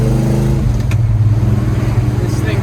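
A 1965 Pontiac GTO with a 390 engine drones loudly and steadily in second gear from inside the cabin, a low rumbling hum that holds even while cruising.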